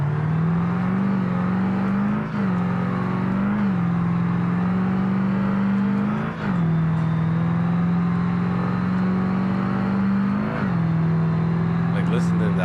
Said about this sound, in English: I'm getting very, very good at upshifting and downshifting this truck with the dual shifting.